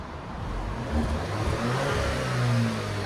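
A 2020 Alfa Romeo Stelvio SUV with straight pipes and muffler delete revs up twice, a fairly quiet, low rumbling roar that rises and falls without any voices.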